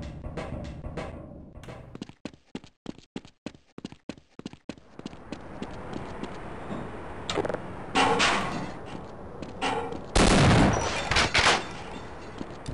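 Shotgun fire in the video game Half-Life, including the double-shell secondary fire: a run of sharp, loud blasts and clacks, with heavier bursts near the end.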